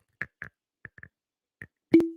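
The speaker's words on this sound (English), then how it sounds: "Pause for cork pop." Cork pulled from a bottle of Widow Jane bourbon: a handful of small dry squeaks and clicks as it twists, then one sharp hollow pop with a short ringing tail, close and isolated in silence.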